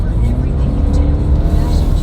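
A 2019 Mercedes A220 accelerates with a dense, loud engine and road roar that stays steady throughout, with voices talking over it inside the car.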